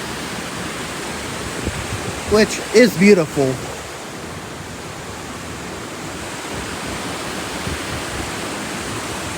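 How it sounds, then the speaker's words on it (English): A waterfall at Old Mill Park in Roswell, Georgia, rushes over rocks in a steady, broad roar that fills the whole scene, while someone speaks briefly near the start over the constant noise of the water. "this is where the water's really noisy, all these rocks, and you have the falls here"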